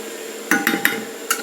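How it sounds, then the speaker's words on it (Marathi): A spoon stirs safflower leaf vegetable curry in a cooking pan, giving four sharp metallic clinks spaced unevenly against a quiet background, with no voices. "आपली भाजी कितपत शिजली आहे अशा पद्धतीने हलवून बघणार आहोत"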